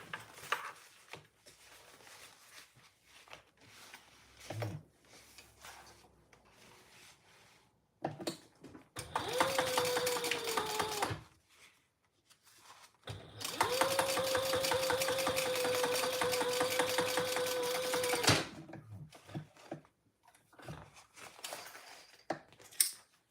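A sewing machine topstitching fabric runs in two bursts, a brief one and then a longer steady whir, close by, with quiet gaps and soft handling noises between them.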